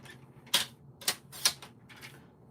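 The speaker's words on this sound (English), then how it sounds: "So let me just trim a little bit off of each side" A paper trimmer slices card stock for a handmade Winnie the Pooh card, giving three or four sharp, crisp cutting snaps spaced about half a second apart over quiet room tone.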